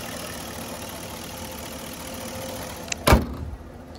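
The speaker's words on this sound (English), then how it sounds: "This is how your engine should sound." A high-mileage Porsche Cayenne engine idles steadily and faintly with an even, smooth hum, and a brief loud knock or thump sounds near the end.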